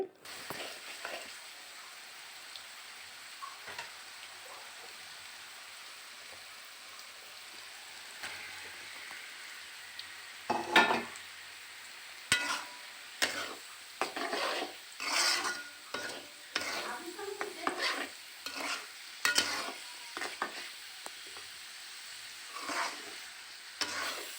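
Bean seeds fry lightly in oil in a pan while spiced masala is stirred, starting as a quiet sizzle and then turning to repeated uneven scraping and clattering stirs over a low hiss, with no voices.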